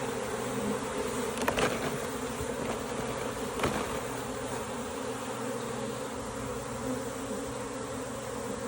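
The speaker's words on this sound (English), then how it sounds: "Here's my bees." A shaken-down honeybee swarm buzzes steadily, a dense, continuous hum of many insects at moderate level with occasional louder passes of bees close by.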